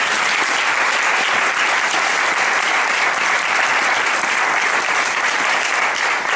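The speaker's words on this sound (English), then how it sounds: "We all have another round of applause." Steady, dense applause from a large audience, continuous clapping at full volume throughout without a break.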